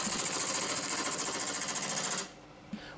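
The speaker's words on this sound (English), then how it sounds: "gently carving away the wood" Wood lathe turning an off-balance burl firewood log as a bowl gouge carves it, a loud buzzing, fluttering rumble that stops abruptly partway through, followed by quiet room tone and a small knock.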